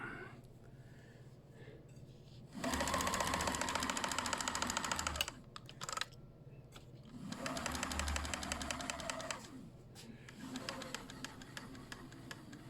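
A Kenmore sewing machine runs in several bursts with a fast, rattling knock from a fault in the upper mechanism, stopping and starting between runs in a quiet room.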